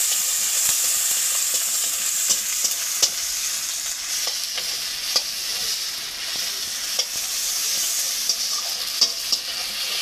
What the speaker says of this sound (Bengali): দিয়ে একটু নেড়ে চেড়ে এটা ভাজা করে নিই।